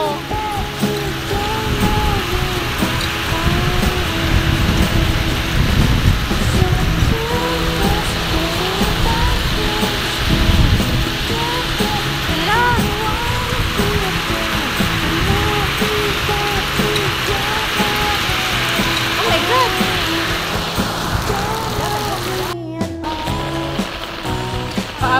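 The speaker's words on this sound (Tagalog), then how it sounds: "malakas ang ulan. Basang-basa na yung shoes ko." Steady, dense rain pours throughout outdoors near a church, a loud continuous wash of hissing water with faint scattered voices underneath.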